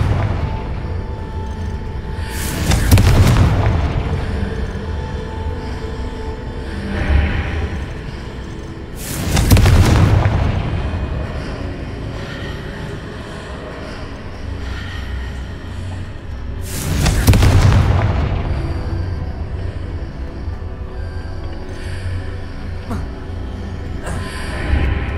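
Confringo spell blasts from Hogwarts Legacy go off three times, each a loud booming burst spaced several seconds apart over steady game ambience.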